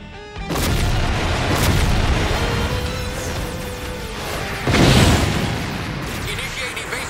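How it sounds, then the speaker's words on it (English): Deep, heavy booms of cannon fire in an animated sci-fi series roll out over a constant rumbling roar, with one loud blast standing out near the end. "All units, watch out for cannon fire."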